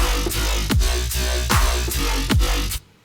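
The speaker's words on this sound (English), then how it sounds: "So now over a basic dubstep drum loop, this would sound something like this." A dubstep synth bass built from a Lamborghini engine wavetable, compressed and detuned with a sub-bass layer, plays over a basic dubstep drum loop; a loud, steady wobbling bass with pitch-dropping hits roughly every 0.4 seconds, cutting off abruptly near the end.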